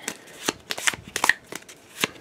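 A deck of cards for a board game being shuffled up close, a run of quick riffling and slapping bursts with brief pauses between them, no voices.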